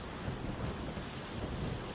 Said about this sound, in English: These waves are a bit more lively as well.